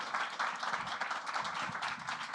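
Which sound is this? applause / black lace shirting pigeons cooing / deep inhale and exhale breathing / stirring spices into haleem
applause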